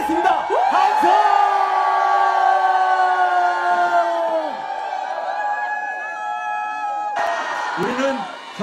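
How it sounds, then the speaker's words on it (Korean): A large crowd at a peaceful protest rally outside Seoul City Hall lets out a long, loud collective shout and cheer that holds, fades, then flares up again in a fresh burst of whoops near the end. "하늘 앞에 함성으로 영광 돌리도록 하겠습니다. 함성!"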